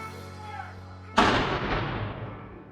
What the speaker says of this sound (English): right in time for the live cannon firing, and this is something we have never seen before